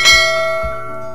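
A bright notification bell chime sound effect rings loud and alone, its clear metallic tone sustaining and slowly fading over about a second.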